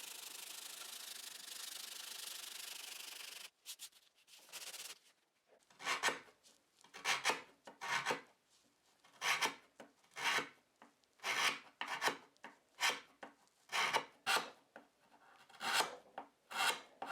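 A steel scraper blade rasps across the veneer of an Art Deco nightstand in close, rhythmic strokes, about a dozen scrapes with short pauses between them, following a few seconds of steady hiss.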